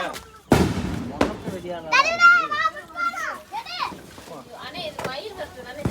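Diwali firecrackers burst with sharp loud bangs, one big crack early and smaller pops after, while children shout and talk excitedly nearby.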